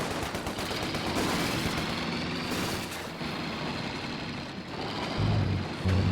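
MG42 machine gun fire in a competitive online video game match, a dense, sustained rattling barrage mixed with rumbling engine noise, steady throughout with a louder burst near the end.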